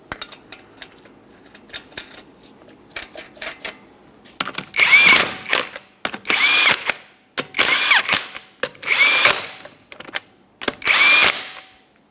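A power tool spins down 21mm lug nuts on a 2011-2020 Toyota Sienna wheel during strut replacement. Five loud, evenly spaced whirring bursts are heard up close, with clicks and small metallic clatter before them.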